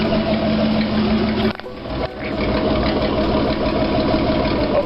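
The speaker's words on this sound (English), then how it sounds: "I'm going to crank the engine and just look at it" Jeep CJ7 engine, just reconnected to its oil pressure line, running at a steady idle close by, with a brief dip midway before the even drone resumes.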